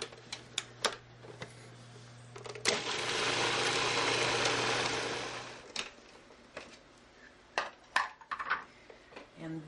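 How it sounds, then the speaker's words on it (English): A blender briefly whirs for about three seconds, pureeing sauce ingredients with salt for sweet and sour tomato meatballs, framed by clattering, tapping kitchen handling before and after. "And we'll just puree this."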